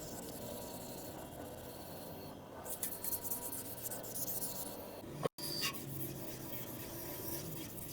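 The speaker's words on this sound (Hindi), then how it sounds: "1000 नंबर के एमरी पेपर की मदद से पूरे फ्यूल टैंक की हम रगड़ाई करेंगे" A Honda CG 125 fuel tank being rubbed down by hand with 1000-grit emery paper: steady close scratchy rasping strokes, a little louder in the middle, with a brief dropout, no talking.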